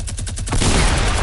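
Fortnite gunfire in a burst of rapid, loud shots, with a dense clatter of overlapping fire swelling in the second half and no voices.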